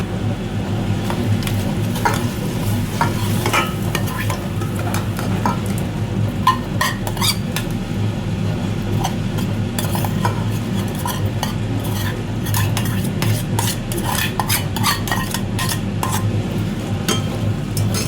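Mango pulihora rice with grated raw mango and peanuts being stirred in a pan, a continuous scraping and mixing with a gentle sizzle and scattered spoon clinks, heard close with no talking.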